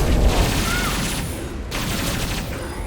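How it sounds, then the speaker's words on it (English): A dense, roaring burst of impact gun fire in the video game Mass Effect 2. It is a loud, continuous rush of noise with no separate shots, steady for about three seconds. "Firing an impact gun!"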